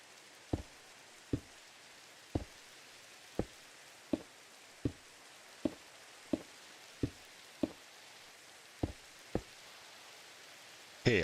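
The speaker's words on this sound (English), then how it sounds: "And now it starts raining." Rain in the Minecraft video game patters steadily on its own, with evenly spaced sharp knock-like taps standing out over a faint hissing background.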